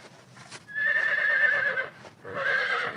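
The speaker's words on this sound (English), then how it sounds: "That's Jenny, the horse that's not well." A farmyard horse that is unwell neighs in two long, loud whinnies, close by, with a soft clop of hooves at the start.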